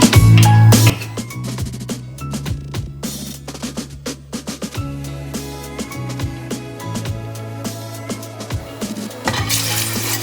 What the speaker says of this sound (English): So you are frying this and separating it.